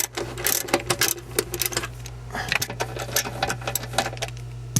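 A tool works loose the mounting bolts of the airbag cover on a 1993–1998 VW Jetta, a loud, rapid, rattling run of clicks close by with brief pauses.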